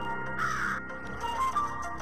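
A crow caws a few times in short, harsh calls, close and fairly clear, with no talking over it.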